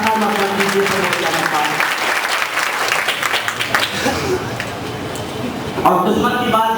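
Hearty clapping fills a district conference hall in Shahjahanpur as a guest is welcomed. The crowd's applause starts full and close, gradually tapers off, and a brief louder burst of noise follows near the end.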